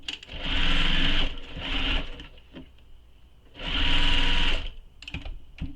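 Sewing machine stitching a seam on a fabric tote bag, two bursts of steady rapid mechanical whirring separated by a pause, with small clicks and handling noises between runs.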